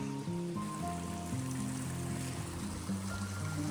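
Water flowing at the top of an Australian waterfall, a steady close rushing wash with constant trickling texture, running alone without voices.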